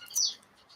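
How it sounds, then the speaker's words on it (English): Birds chirp outdoors in the morning, a single short bright call near the start, then only faint, quiet twitters linger. "So the birds have suddenly woke up."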